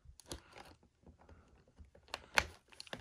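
Scissors snip through plastic toy packaging for a mini Barbie doll, giving a few quiet crunchy cuts and crinkles with one sharper snap near the end.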